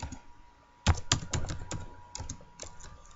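Quick bursts of keystrokes on a computer keyboard while Python code is typed for a tkinter calculator, close and crisp, with irregular clusters of taps after a short quiet start.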